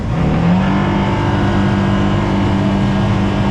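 A boat's outboard motor strains loudly and continuously as it accelerates to get up on plane, a close, droning engine tone with a rising pitch that holds throughout.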